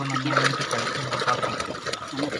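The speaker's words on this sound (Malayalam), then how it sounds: "നമ്മൾ ഈ വെള്ളം ഒഴിക്കും തോറും ഇതിങ്ങനെ പതഞ്ഞ് വന്നുകൊണ്ടിരിക്കും" Water splashes and gurgles steadily into a frothy mixture, a continuous wet churning sound close by with no talking.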